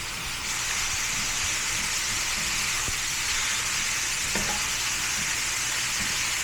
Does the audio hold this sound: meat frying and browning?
yes